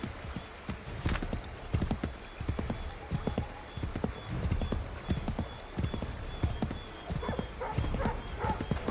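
A horse gallops in the video game Assassin's Creed 3, giving a steady, rhythmic clip-clop of hoofbeats throughout at moderate loudness, with faint ambient game sounds behind it.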